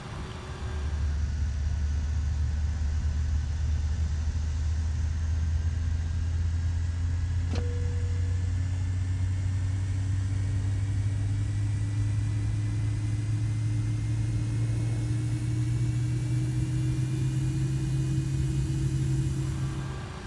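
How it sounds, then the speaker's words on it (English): An MD-80 airliner's right engine spools up in Microsoft Flight Simulator, giving a steady low rumble that slowly rises in pitch and carries a whining tone for about twenty seconds, with one brief click partway through and no talking. "And we'll start the right engine."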